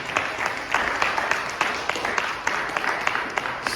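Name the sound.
audience applause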